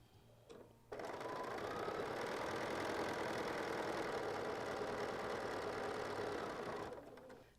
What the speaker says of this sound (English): I'm going to turn this over and I'm going to sew from the bottom up